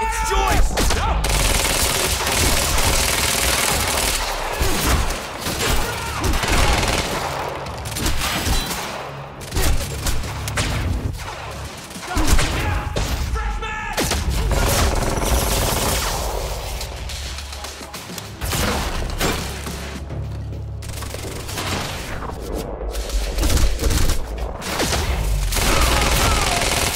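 Gunfire during a campus library chase in the video game Quantum Break: dense bursts of automatic fire and heavy impacts over nearly half a minute, loud and close, with brief shouted voices mixed in.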